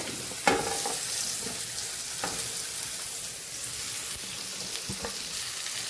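Carrot, cabbage, chillies and ivy gourd frying in a hot oil tempering with asafoetida and turmeric for Kathiyawadi sambharo, a steady close sizzle with a few sharp clatters of stirring.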